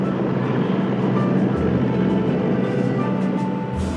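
Japanese Zero fighters escorting bombers and torpedo planes drone overhead, a steady dense engine roar with a low rumbling undertone that holds at constant loudness throughout, with no voices.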